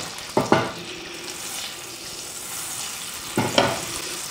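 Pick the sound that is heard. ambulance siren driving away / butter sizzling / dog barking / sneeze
butter sizzling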